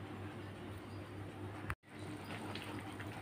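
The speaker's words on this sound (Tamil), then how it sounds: "குழம்பு நல்லா கொதிச்சிக்கிருக்கு." Egg pepper gravy boils in a lidded pot with a steady, fairly faint bubbling hiss that cuts out briefly near the middle before carrying on.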